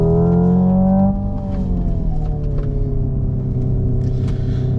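A Hyundai IONIQ 5N electric car accelerating on a track, with a loud steady synthetic engine-like whine whose tones shift in pitch as it gains speed, heard close and continuous without talk.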